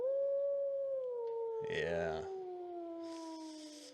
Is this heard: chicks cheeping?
no